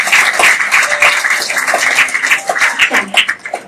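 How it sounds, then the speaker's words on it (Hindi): An audience at a Brahma Kumaris centre birthday and Christmas celebration claps for the sisters, a dense, steady patter of many hands nearby that loosens and thins toward the end. "तो सभी तालियों से दीदियों को शुभकामनाएं देंगे।"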